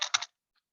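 A quick burst of several keystrokes on a computer keyboard, close and crisp, lasting about a third of a second before silence.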